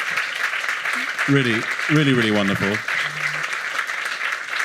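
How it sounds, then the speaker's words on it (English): Audience applause for a panel at a journalism event, steady clapping filling the whole stretch while a speaker talks over it in the middle. "Please clap and say thanks."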